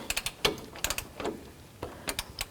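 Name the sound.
socket wrench tightening bolts on a Jeep Cherokee water pump inlet tube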